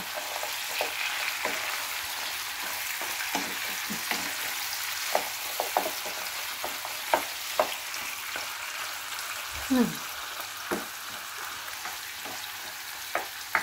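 Frozen ampalaya (bitter gourd) sizzling in a pan with tomatoes, a steady crackling fry with occasional sharper pops and a brief stirring scrape, no talking.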